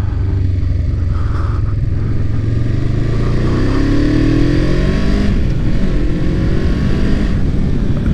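A 500cc six-speed motorcycle engine revs hard up close, its loud rumbling exhaust rising and falling in pitch as the throttle opens and the gears shift.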